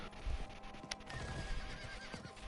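A horse whinnies in Diablo 4, a short neigh standing out briefly near the start amid steady game background noise and faint hoof-like thumps.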